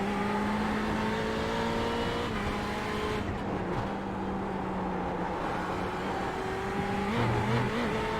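A GT race car in the iRacing sim races the Nürburgring 24h layout, engine droning steadily at high revs, pitch sliding through gear changes with a short dip and a brief tire squeal near the end, no voices.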